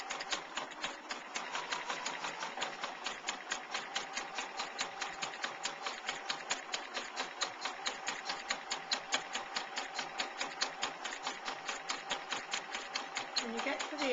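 A sewing machine stitches around a fabric heart for a needlecase, its rapid steady needle chatter running continuously at an even pace.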